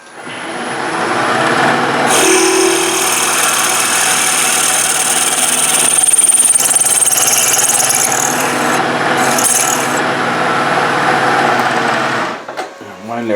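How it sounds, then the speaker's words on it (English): A drill runs down to its depth stop on a milling machine during a gear hobber build, giving a steady loud machine whir and grinding hum that holds for about ten seconds before cutting off. "And we're going to drill down to our stop."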